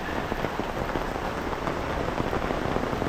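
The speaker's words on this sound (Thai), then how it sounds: "ฝนตกหนักมาก" Heavy rain pours steadily at a tent campsite in Saraburi, Thailand, a dense, continuous hiss and patter of drops on surfaces, close and loud throughout with no voices.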